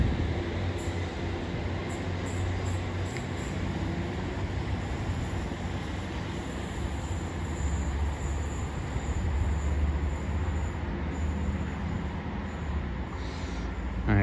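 A Class 150 diesel multiple unit passes through Newton Abbot station, a steady, loud rumble of wheels and engine holding for the whole stretch with no talk over it.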